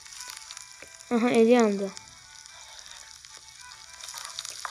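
Chopped onions fry in a pan with a faint, steady sizzle in the background, briefly covered by a voice speaking a short phrase, then continuing quietly alone.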